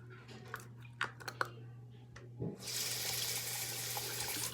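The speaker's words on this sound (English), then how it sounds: "let me put some more water in it" Water runs from a tap into a container, starting as a steady hissing stream after a few scattered clicks and knocks, moderately close, with no talk.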